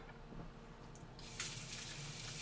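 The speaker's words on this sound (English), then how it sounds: "Give my hands a little rinse." A kitchen tap runs steadily while hands are rinsed beneath it, a continuous close hiss of water that brightens and splashes harder midway as the flow hits the hands.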